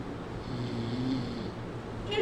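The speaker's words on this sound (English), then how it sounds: "You're snoring." Snoring from a person, a steady low rumble repeating in slow breaths across the clip, fairly close and moderately loud, with no talk over it.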